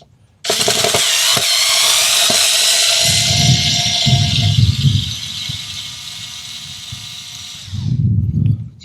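A power screwdriver turns the original screws on a Schecter guitar, whining loudly and steadily for several seconds with low knocking underneath, then pausing briefly before a short final burst.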